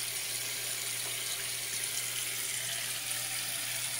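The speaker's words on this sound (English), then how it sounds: "I'm just gonna put water in here and see where it goes." Water pours steadily into a waterfall drain soap dish in a sink, a continuous close trickle and splash with no voices.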